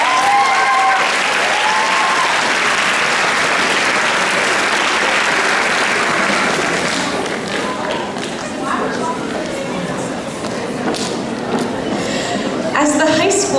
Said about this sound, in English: We have one more round of applause for the chamber singers.